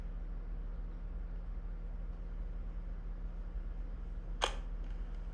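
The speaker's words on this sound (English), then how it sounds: "now I'm going to put the camera back into mirror lockup mode." A single sharp mechanical clack as a DSLR camera's mirror flips up into lockup mode during sensor cleaning, heard briefly and close over a steady low hum.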